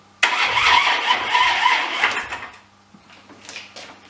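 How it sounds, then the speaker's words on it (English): Electric starter on a 1972 Honda CB 250 motorcycle cranks in a loud, sustained whirring burst for about two seconds, then fades into weaker, intermittent churning without catching. "Let's see if the electric starter does anything"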